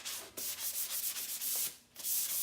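Sandpaper rubs back and forth over painted wooden furniture being distressed, a steady series of close, scratchy strokes with brief pauses between passes.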